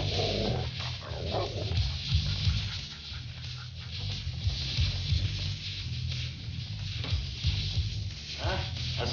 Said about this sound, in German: Das ist dein Hund.